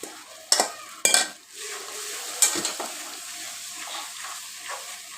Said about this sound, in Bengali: এখন এটাকে কষিয়ে নিচ্ছি